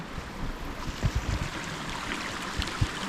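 A small creek flowing in the outdoors beside a tiny house build site, a steady broadband wash of running water with occasional louder splashy gurgles, heard close and alone without talk.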